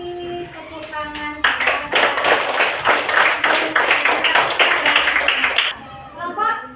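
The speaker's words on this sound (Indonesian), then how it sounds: "beri tepuk tangan" Classroom audience breaks into a burst of hand clapping that lasts several seconds and then fades, with a voice heard before and after the applause.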